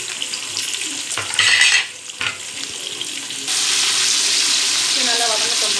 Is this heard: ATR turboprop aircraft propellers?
no